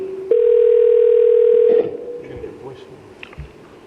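Ringback tone on an outgoing telephone call: a single long, steady, loud tone sounds for about a second and a half, then cuts off, leaving faint room noise.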